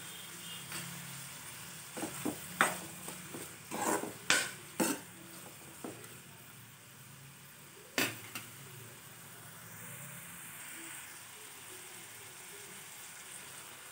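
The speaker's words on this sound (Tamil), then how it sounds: "வெங்காயம் நல்லா வதங்கிருச்சு" Onion and five cloves of garlic sauté in a pan for coriander chutney, a soft steady sizzle under a run of clanking spoon stirs and scrapes that fade after a few seconds, leaving quiet frying.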